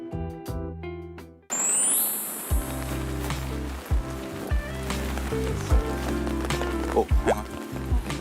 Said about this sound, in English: Oh, the rain is really bad.